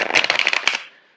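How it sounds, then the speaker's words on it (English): A quick riffle of playing cards being shuffled, a dense burst of crisp clicks that ends in a short pause. "I'm going to shuffle the cards out for you."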